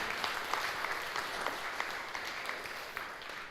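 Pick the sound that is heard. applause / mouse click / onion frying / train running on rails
applause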